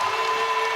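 Arena crowd cheering at a Mavericks basketball game, a steady roaring wash of voices that holds level and loud through a brief moment, with no talk over it.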